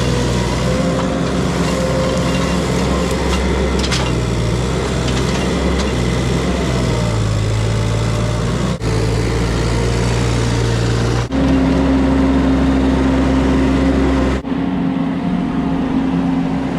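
A mini skid steer engine runs while moving logs on a tree removal job, a loud continuous motor drone that shifts pitch as it works, with a few brief cuts.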